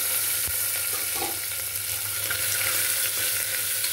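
Green chillies, onion and carrot sautéing in a pan, giving a loud, steady frying sizzle with a faint knock near the start.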